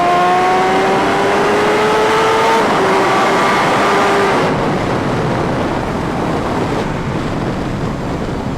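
Kawasaki Ninja H2R motorcycle under throttle while riding, a loud engine whine climbing in pitch through the gears, then giving way to steady roaring wind rush.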